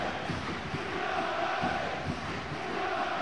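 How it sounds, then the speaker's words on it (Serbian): A stadium crowd at a Northern Ireland versus Serbia football match roars loudly, a dense, continuous wash of voices and chanting heard from within the stands. "Najbučnija publika od starta utakmice."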